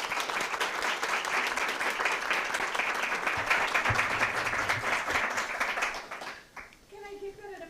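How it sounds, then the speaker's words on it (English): A room full of people gives school board members a warm round of applause at a district meeting, sustained clapping that fades out near the end as a voice begins speaking. "Let's go ahead and give our board members a nice round of applause."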